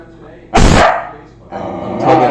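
A dog named Lou lets out one sharp, loud bark up close, then a second rougher bark or yip follows a moment later, with a voice talking in the background.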